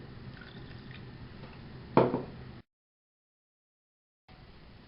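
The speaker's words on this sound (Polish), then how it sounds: "I teraz dodam resztę wody." Water poured into pudding while making strawberry cream gives a soft trickle that builds to a short splash, then the sound cuts out briefly before faint kitchen noise returns.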